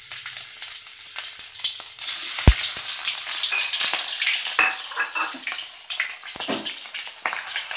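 Ground spice paste hits hot oil in a pan and fries with a steady, loud sizzle and crackle, joined by a few sharp spatters and clatters of stirring for Batak-style napinadar village chicken.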